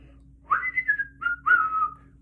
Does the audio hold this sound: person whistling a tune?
yes